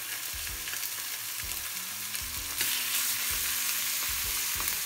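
Chicken pieces fry skin side down in a pan over medium heat for Japanese teriyaki chicken. A close, continuous sizzle is broken by a few soft knocks and shifts, and it grows slightly louder toward the end, with no speech.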